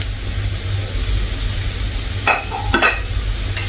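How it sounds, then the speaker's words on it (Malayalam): Squid filling with ginger and crushed garlic sautés in a pan, a constant close sizzle with a low background hum and a couple of brief scraping stirs near the end. "നന്നായിട്ടൊന്ന് വഴിച്ചെടുക്കാം"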